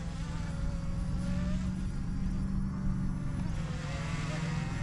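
Tizzy drone in flight and climbing, a thin, buzzing insect-like whine of small propellers that holds steady with slight pitch shifts, moderately distant.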